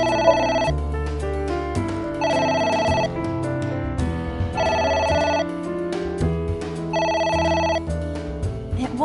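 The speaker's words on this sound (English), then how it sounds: "It won't stop ringing." A telephone rings in four regular bursts, bright electronic trills repeating about every two and a half seconds over a dark, low musical backdrop.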